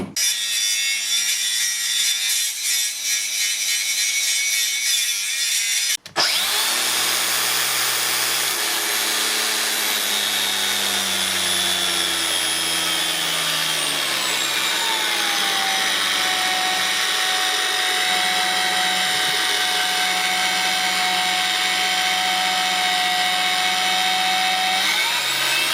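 A Makita 18V X-LOCK cordless angle grinder runs steadily with a loud, high whine that briefly cuts out, then spins back up and holds a constant pitch, with no talking.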